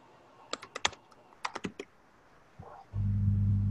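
Bursts of computer keyboard typing during an online community meeting, quick clusters of close keystrokes with a pause, followed by a steady low hum.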